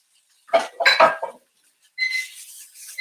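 A quick clatter of small hard frozen peas dropping into a pan, then a brief lull followed by a hissing, rattling scrape.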